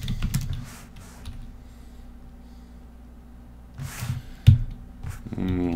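Several bursts of key presses on a computer keyboard as a password goes in at a Linux terminal, with a run of taps near the start and more clustered strokes around four to five seconds, close and moderately loud over a quiet room.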